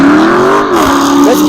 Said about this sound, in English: But that car was so loud, you still kind of had to yell at least a little bit.